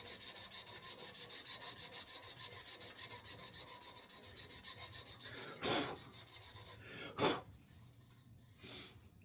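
Sandpaper rubs rhythmically against a pen blank and the metal bushings on a spinning lathe, a quiet rasping swish repeating a few times a second, broken near the end by a couple of louder scrapes.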